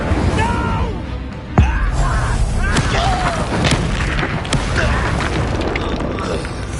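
An Incendio fire spell blast in Hogwarts Legacy lands with a sharp boom in the middle of a busy fight, over a constant bed of combat noise and shouting voices.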